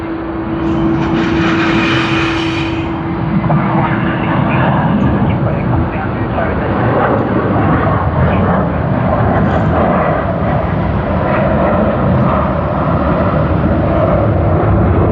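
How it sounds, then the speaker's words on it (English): A Vietjet Air Airbus A330 at Sydney Airport, with loud continuous jet engine roar and rumble near the gate area, a steady tone briefly at the start, and voices talking over it. "VJ86 on the Airbus A330 of Vietjet Air"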